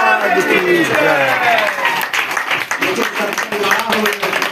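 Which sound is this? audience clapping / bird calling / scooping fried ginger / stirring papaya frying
audience clapping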